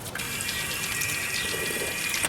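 Steady rushing of water from a castle's water fountain, a continuous, even hiss of running water that fills the whole short stretch at moderate loudness, with no voices over it.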